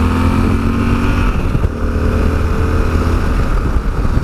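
A 2017 Yamaha XT1200Z Super Tenere motorcycle is ridden with a loud, close, steady engine drone. Wind rush runs under the engine throughout.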